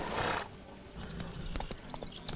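A horse in The Witcher 3: Wild Hunt video game gives a loud whinny, then its hooves clop in uneven steps on swampy ground, with no talk.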